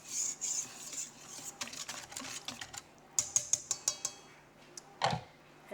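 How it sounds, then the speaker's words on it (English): Melted coconut oil gets stirred into homemade bread mixture in a bowl, a run of light clicking, tapping utensil strokes with short pauses, a quick burst of sharp taps, and one louder knock near the end. "Just stir all that in."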